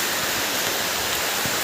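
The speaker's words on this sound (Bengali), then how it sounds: "প্রচণ্ড পরিমাণে বৃষ্টি হচ্ছে আজকে সকাল থেকেই" Heavy rain pours steadily outdoors along a waterlogged natural path, a dense, loud, unbroken wash of falling water with no voices.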